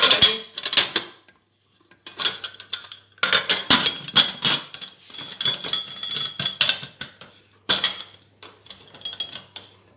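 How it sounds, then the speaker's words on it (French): A metal pressure cooker lid being set on and screwed shut, with several close clattering, clinking metal knocks in short bursts separated by pauses, no talk. "Et on ferme notre cocotte."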